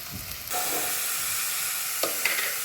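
Onions and cashews frying for mutton kheema in a pan, a loud close sizzle that surges in after a short pause and hisses on steadily, with brief scrapes of stirring and no voices.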